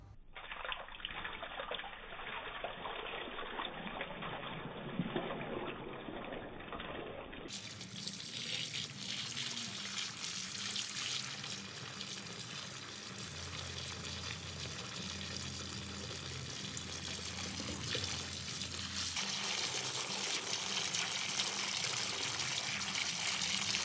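Water runs steadily into a shower waterproofed with Kerdi membrane for a flood leak test, a continuous gushing fill that grows louder and fuller partway through and carries on unbroken with no talking.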